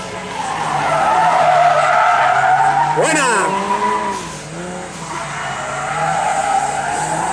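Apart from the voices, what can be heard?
rear-wheel-drive Ford Cosworth rally car skidding through a curve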